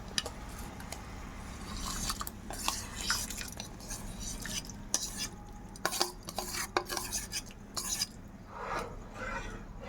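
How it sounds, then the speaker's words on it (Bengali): Washed, ghee-coated rice tipped into boiling water in a pot for bottle gourd payesh, then stirred, with wet scraping, sloshing and a spoon knocking the pot over a continuous bubbling rumble. "এবার এই পুরো চালটা আমি দিয়ে দেবো এই ফুটন্ত জলের মধ্যে"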